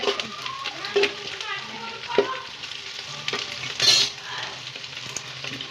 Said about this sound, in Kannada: ನೋಡಿ ಚೆನ್ನಾಗಿ ಫ್ರೈ ಆಯ್ತದೆ